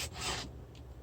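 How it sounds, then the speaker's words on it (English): A hand file rasps across the teeth of a ripping saw chain in one short push stroke, faint and close. "I'm going to twist and push. Not filing on the backstroke."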